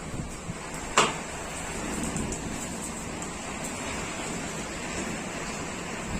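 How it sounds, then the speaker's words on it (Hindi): Steady heavy rain with gusty wind roaring continuously outdoors, a single sharp knock near the start. "अब बारिश हो रही है बस"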